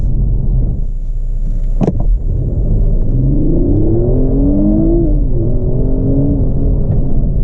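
A 2018 Kia Stinger GT launches hard from a standstill, its engine note climbing steeply through the revs with a gear change, loud from inside the cabin over wind and road rumble.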